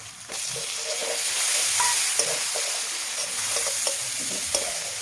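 Chopped tomatoes sizzle in a hot pan with turmeric and chili powder, a steady frying hiss punctuated by scraping clicks of a spatula stirring them around.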